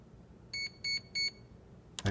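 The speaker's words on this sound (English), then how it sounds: "Three beeps, LVC threshold." A Proboat Zelos 36 ESC sounds three evenly spaced electronic programming beeps, each bright and tonal, in quiet surroundings, followed by a short sharp burst of noise at the very end.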